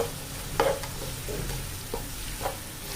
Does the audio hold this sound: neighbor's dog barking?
no